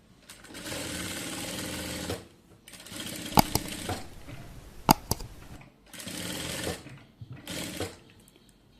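A sewing machine stitches ribbons for a garment neckline, running in several steady whirring bursts of a couple of seconds each with short pauses and a few sharp clicks between them, close and clear.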